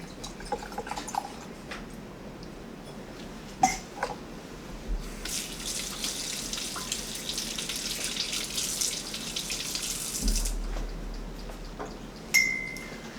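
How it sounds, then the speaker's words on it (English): Fresh sodium hydroxide solution is poured into a container during a general chemistry lab test, giving a steady liquid splash and trickle for several seconds amid faint clinks of glassware, fairly close and moderately loud. "Let me put some fresh sodium hydroxide in here."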